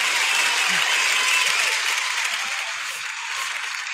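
Studio audience applause during a televised interview, a sustained dense clapping crowd, loud and even, fading slightly toward the end with no talk over it.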